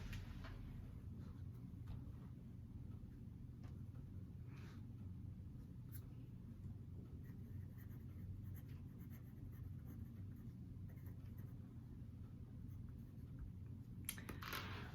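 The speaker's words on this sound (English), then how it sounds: "I'm going to write down a few things too." Handwriting with a pen on paper during a team talk, faint intermittent scratching strokes over a steady low room hum, with no voices.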